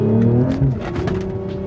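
A Mercedes GLE 53 AMG engine in sport mode gives a short, close rev, its tone rising and then dropping back to a steady drone.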